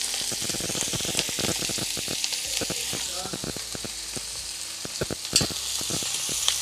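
Green chili and onion fry together in oil on a hot pan, producing a loud, close, steady sizzle punctuated by sharp clicks and scrapes of stirring.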